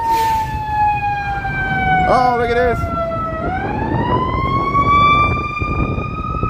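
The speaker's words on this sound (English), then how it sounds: "here comes the siren." Emergency vehicle siren wailing loudly as it passes along a Chicago street, steady rising and falling tones throughout, with a voice speaking briefly over it.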